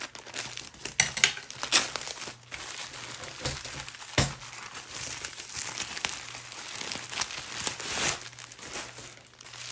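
Plastic mail wrapping around an AliExpress package crinkles and tears as it is cut open, with close, continuous rustling and a few sharper crunches throughout.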